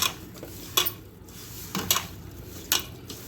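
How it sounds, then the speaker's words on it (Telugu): A spoon clinks and scrapes against a metal bowl while chilli powder, garam masala, coriander powder and salt are mixed together for prawn biryani. A few sharp, close knocks are spaced about a second apart, with no talking. "మొత్తం ఒకసారి కలుపుకుందామండి దీన్ని"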